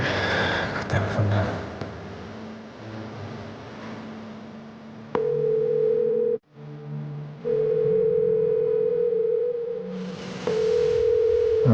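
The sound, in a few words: phone ringing unanswered during a call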